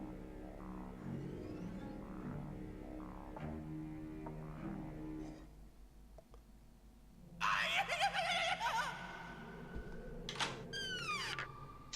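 A character in the horror video game Gregory Horror Show lets out a shrill, loud scream that bursts in after quieter game music, followed by a few high, falling tones.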